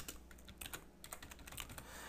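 Rapid, uneven keystrokes on a computer keyboard while entering text at a desk, a steady patter of soft clicks with no voices.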